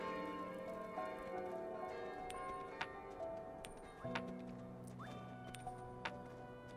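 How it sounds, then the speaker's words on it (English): Bells in Kingdom: Two Crowns ring out in a few clear, sharp tolls over a soft, steady game soundscape with sustained tones, spaced irregularly across several seconds. "The bell rang, which means they've turned around."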